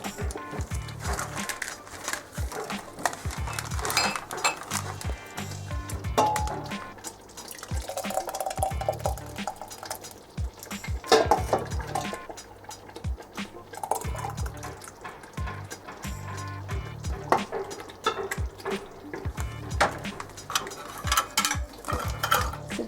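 A cezve scoops and pours hot tomato and roasted eggplant sauce into jars, with repeated metal clinks and scraping against glass and pot, wet sloshing, and a steady low kitchen hum throughout.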